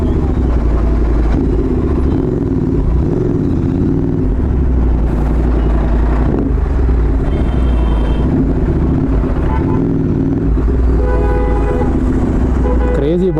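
A motorcycle fitted with Motoking headers and a full-system aftermarket exhaust drones loudly and continuously close by, with a deep, rough low roar that holds steady for the whole stretch.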